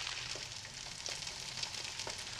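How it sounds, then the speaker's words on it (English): Eggs frying in a pan, a steady, fairly faint sizzling hiss with small crackles and pops scattered throughout and no voices. "Looks like a frying pan and some eggs to me."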